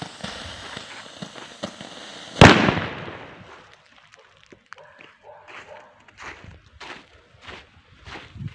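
A loud Thunder PXR224 firework rocket bursts with a deep booming crack, then fades into quiet outdoor sounds with a few light scattered thuds and rustles.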